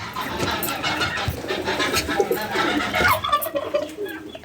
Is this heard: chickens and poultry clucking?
yes